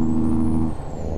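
A truck's engine brake in American Truck Simulator gives a steady, low, throaty rumble with a strong droning pulse, briefly shifting in tone partway through, heard alone and close.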